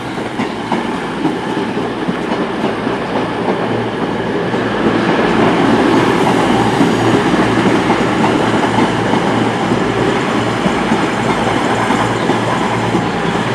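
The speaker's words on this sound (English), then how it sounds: "arriving in as 10:25 from Penzance to Glasgow Central" Class 221 diesel train pulling in on a Penzance to Glasgow Central service at Plymouth station, loud continuous rumble and engine drone with rhythmic wheel clatter that swells as the train draws nearer.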